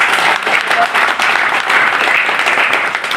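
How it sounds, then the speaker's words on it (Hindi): Party workers at an office inauguration meeting in Udaipur break into loud, dense, continuous applause that fills the room from start to finish. "सब कार्यकर्ताओं की तालियों की गड़गड़ाहट के"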